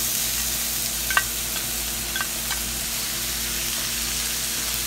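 Tomato and spices fry in a pan for salsa with a loud, steady sizzle, broken by a couple of faint utensil taps.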